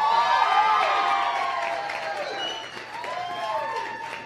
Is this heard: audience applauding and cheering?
yes